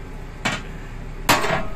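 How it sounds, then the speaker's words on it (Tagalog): Two sharp metallic hammer strikes on metal, about a second apart, each clanging briefly and ringing out, close and loud against a steady background hum. "Kailangan yung martilyo ni Thor."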